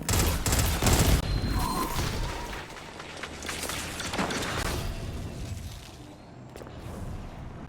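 Dense automatic weapon fire in the shooter game Destiny 2, a sustained rattling fusillade with booming impacts that stays loud throughout, with no talking.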